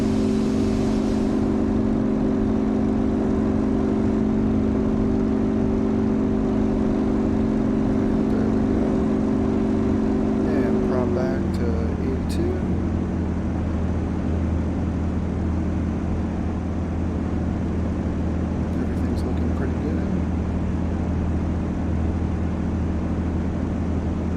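Yak-52 radial aircraft engine at takeoff power in the DCS flight simulator, a loud steady drone that shifts to a lower, rougher tone partway through and then holds constant with no talk.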